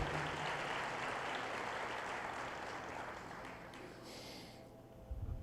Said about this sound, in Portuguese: Podemos aplaudir a Deus.